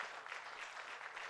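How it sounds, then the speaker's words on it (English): An audience at a Minnesota public forum applauds, a faint, distant and steady patter of many hands clapping with no voices over it. "let's give them a nice applause here for their work"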